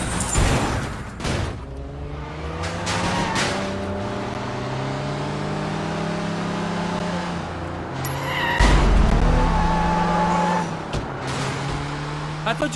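In the open-world game Sleeping Dogs, a car revs and pulls away, its engine climbing and shifting in pitch through gears. The noise stays steady and fairly close, with a brief surge midway and a voice speaking over part of it.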